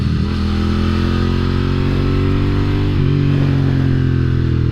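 A Royal Enfield motorcycle on a race track runs loud and close, its engine droning steadily with a slight rise in revs partway through, uninterrupted and with no voices.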